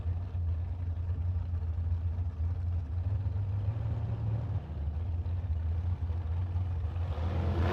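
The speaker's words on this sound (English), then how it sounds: "first pair of dragsters coming at you" Dragsters at a drag racing start line, including a green Bumblebee Tuna dragster, give a low steady engine drone heard from a distance that swells slightly toward the end.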